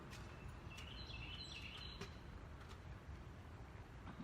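A small bird chirps faintly in a short burst of high calls, half buried under a steady low rumble of distant traffic.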